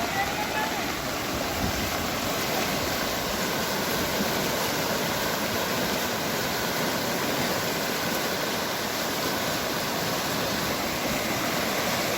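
A village stream that people must wade across flows in a loud, steady rush, constant throughout with no talking.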